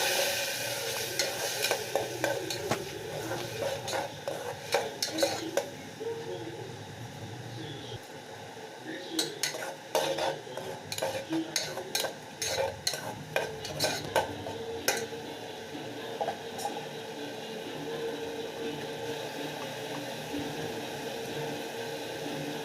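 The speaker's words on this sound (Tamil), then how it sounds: "அரைச்சி வச்சு தக்காளி ஆட் பண்ணிக்கலாம் அதோட சேர்த்து நல்லா வதக்கிக்கலாம்" Ground tomato paste sautéed for pea kurma, with a spoon stirring and scraping the pan in quick repeated clinks over a soft continuous sizzle, close by, no one talking.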